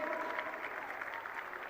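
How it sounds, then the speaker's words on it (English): Stadium crowd applauding at a youth championship opening ceremony in Jawaharlal Nehru Stadium, New Delhi, a steady dense wash of clapping that stays fairly distant and even throughout. "Can we have a big round of applause?"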